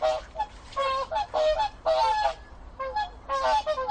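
Whooper swans giving a series of bugling, honking calls in bursts with short pauses between, loud and fairly close, with no other voices.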